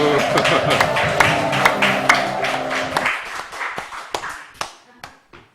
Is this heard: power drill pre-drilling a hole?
no